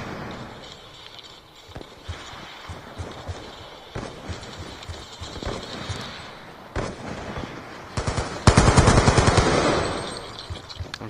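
AN-94 rifle fire in an Xbox Live multiplayer shooter: bursts of gunshots come in and out over game ambience, swelling into a loud, rapid sustained volley near the end.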